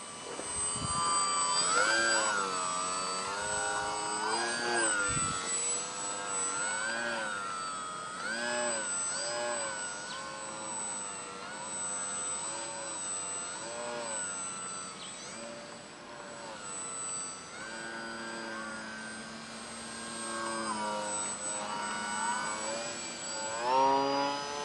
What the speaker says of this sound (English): Sure is a nice flying plane though.